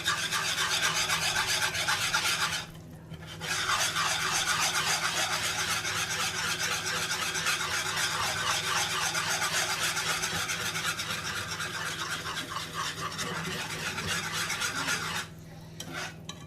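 A whisk scrapes steadily around a bowl, mixing a batter or sauce in a home kitchen, with a continuous brisk rasping rhythm that pauses briefly twice.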